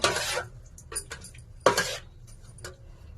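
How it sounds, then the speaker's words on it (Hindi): Batter being mixed in a bowl in a home kitchen, a few quick bursts of scraping and clinking of a utensil against the dish separated by short pauses, fairly quiet with no talking. "तो यहाँ मैंने बैटर को भी मिक्स कर दिया, ये देखिए"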